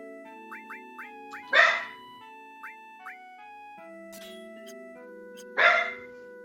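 A dog barks twice, loud and close, each bark a single sharp burst several seconds apart, alongside bright chiptune-style game music with short rising blips.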